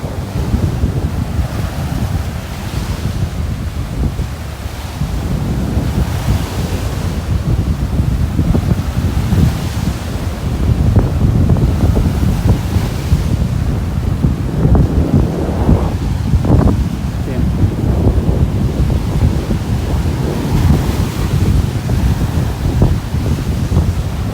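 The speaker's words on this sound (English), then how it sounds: "That's the wind blowing the camera." Strong wind buffets a camera microphone on a beach in North Naples, Florida, a continuous loud rumble with gusts swelling and easing over steady surf.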